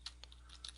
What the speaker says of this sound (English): And then you can type in